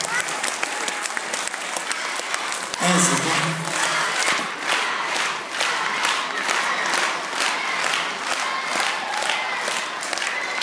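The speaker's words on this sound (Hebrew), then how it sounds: "חברים, מחיאות כפיים, מגיע לה, מגיע לה" An audience at a dance studio's end-of-year final performance applauds and cheers. Dense, continuous clapping fills the room, and a rise of whoops and shouts comes partway through. Brief speech sounds over the crowd.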